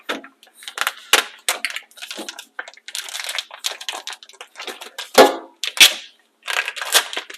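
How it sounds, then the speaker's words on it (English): Sharp plastic crinkling and crackling as a water-packed tofu package is pulled open over a sink, a run of close, irregular snaps and rustles with a few louder pops. "So I'm going to take it out of the plastic."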